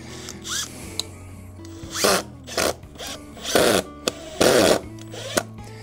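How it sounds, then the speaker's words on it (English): Power drill driving screws into a wooden form for a concrete border, with several short, loud whirring bursts of rising pitch, separated by brief pauses and small clicks, close up with no speech. "I'm gonna run some screws right here into our form."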